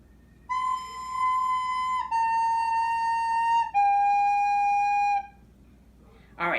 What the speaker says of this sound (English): So it will sound like this.